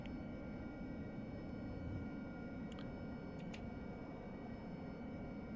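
An AV-8B Harrier jet flying low in the DCS flight simulator produces a steady, even engine roar with no breaks, and a few faint high chirps surface briefly over it.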